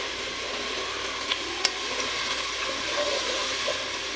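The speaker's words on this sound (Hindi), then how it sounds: "हाई फ्लेम पे इसको जो है भूनेंगे हम ऑनियन को।" Sliced onions fry on a high flame, giving a steady, hissing sizzle throughout with a few small pops and crackles, close and fairly quiet, with no talk over it.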